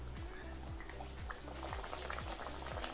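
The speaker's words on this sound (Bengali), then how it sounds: "এখন বেলে নেওয়া বাটোরা তেলের মধ্যে দিয়ে দেব।" Rolled batora dough frying in hot oil, a dense close bubbling crackle with a regular low pulsing throb repeating several times, steady and without talk.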